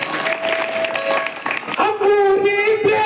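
Audience applause at a gathering, a dense burst of clapping from a crowd mixed with musical tones that rise and hold toward the end, fairly loud and continuous.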